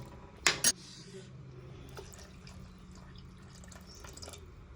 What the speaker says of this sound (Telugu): ఇప్పుడు దీంట్లో చింతపులుసు పోద్దాం